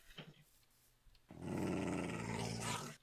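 A dog in the Minecraft-style game The Walls growls, loud and sustained in the second half after a quieter start with faint clicks, the rumbling snarl continuing to the end.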